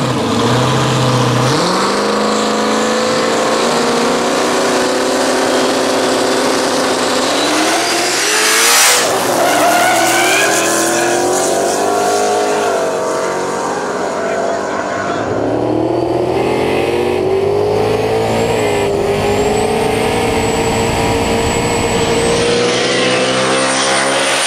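Drag race cars on a no-prep track launch and scream past at full throttle, engines revving hard with rising and shifting pitch, loud and close throughout with brief tire chirps, no talk over them.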